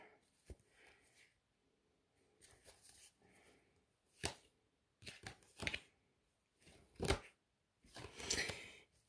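Tarot deck being cut and shuffled by hand, a series of short papery riffles and snaps in separate bursts, close and fairly quiet, with no talking.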